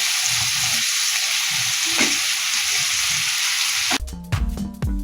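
Hilsa fish fry in hot mustard oil with a loud, continuous sizzle, then a burst of sputtering and clattering as the pieces are moved around in the pan near the end.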